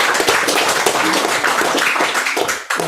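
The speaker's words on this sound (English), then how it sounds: "You see, people do want to clap" Indoor audience applause at a panel talk at a Buddhist centre, steady dense clapping from a small crowd filling the room, then tapering off near the end.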